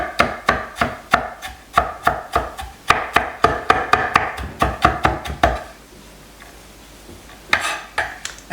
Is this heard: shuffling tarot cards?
no